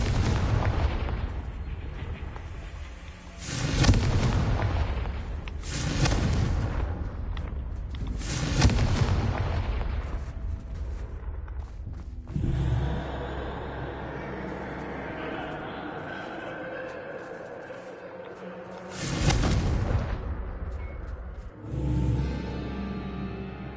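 Repeated heavy booms of the Confringo explosion spell in the Hogwarts Legacy video game, a loud burst roughly every few seconds with rumbling tails, one after another, with spoken voices between some blasts.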